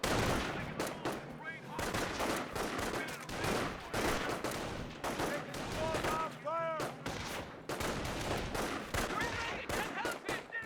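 Gunfire in a Company of Heroes 1 battle: rapid rifle and machine-gun bursts crackle almost continuously, mid-distance and fairly faint, with occasional voices mixed in.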